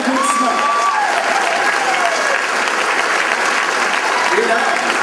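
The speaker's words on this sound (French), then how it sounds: "on va lui donner une bonne main d'applaudissement." Audience applause for actor Olivier Courtois after a staging of the play 12 hommes en colère: steady, dense clapping from a crowd that holds for the full stretch, with a few whistles and cheers mixed in.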